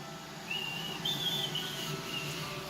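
A thin, high whistle rises and wavers on and off over steady background hiss, like a kettle starting to sing.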